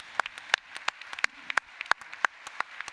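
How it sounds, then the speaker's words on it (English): Scattered, sparse claps from a small conference audience, a few hands clapping irregularly with crisp individual slaps rather than a full ovation. "Give yourselves a round of applause."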